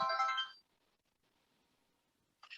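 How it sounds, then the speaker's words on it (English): A telephone rings in another room: a muffled, tonal burst of ringing, a quiet pause, then the ring starts again at the end. No one speaks. "Would you please answer the phone in the other room?"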